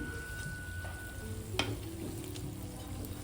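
Tomato sweet deep-frying in oil: a constant close sizzle with soft stirring and scraping, and one sharp ladle tap partway through.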